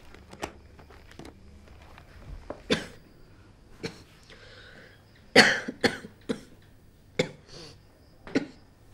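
A person coughs several times at uneven intervals, close by, with a harsh cluster of louder coughs midway between quieter ones.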